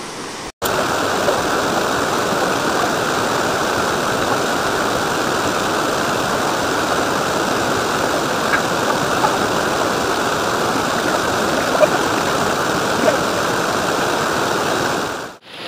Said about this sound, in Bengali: এখানে আওয়াজ জলের খুব সুন্দর